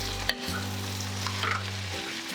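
Tomatoes fry and get stirred in a pan for broad bean masala curry: a steady close sizzle with scraping spoon strokes over a low electrical hum.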